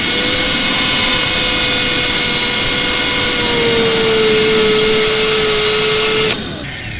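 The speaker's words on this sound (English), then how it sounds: "let's see if we can start grinding that notch" A grinder bites into a hardened steel gun lock as a notch is cut, holding a loud, steady high whine with a faint pitch shift midway before it cuts off and winds down near the end.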